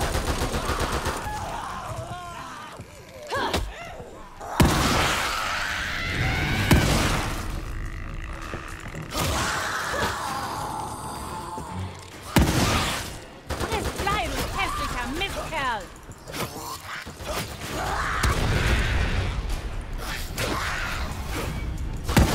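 Gunfire in the survival horror game The Evil Within 2 crackles in repeated bursts, mixed with thuds and game noise, and someone talks loudly over much of the action.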